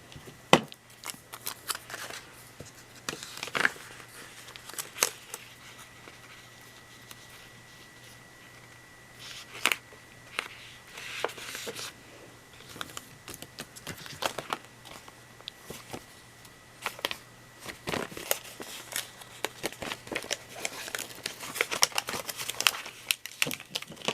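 Scissors cut across paper in a steady series of crisp snips and soft crinkles spread over roughly twenty seconds, close and fairly quiet, with short pauses between bursts of cutting.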